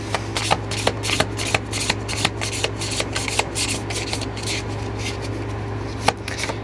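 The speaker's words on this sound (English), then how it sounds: "I'm going to pull one more card" Tarot cards being handled and drawn from a deck, a run of soft papery shuffling and rubbing strokes with small flicks, close and steady, over a low constant hum, with no talking.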